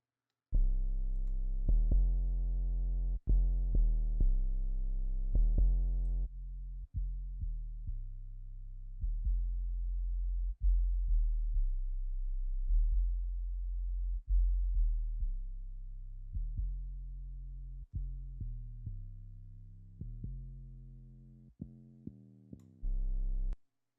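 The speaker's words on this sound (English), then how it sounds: "I'll play this unmixed bass" Deep, booming unmixed 808 sub-bass notes sound alone, each sustained and decaying, stepping through a low melodic pattern with brief gaps between hits.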